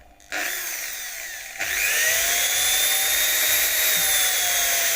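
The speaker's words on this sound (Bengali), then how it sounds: "ড্রিল মেশিন দিয়ে আপনার এইভাবে" A power drill bores holes in a metal Bajaj Pulsar clutch housing during repair, starting briefly, then running up to a loud, steady whine that holds close and continuous.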